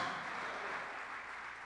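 A church congregation claps for the Lord during a sermon, a steady wash of many hands applauding together at moderate volume without any talking.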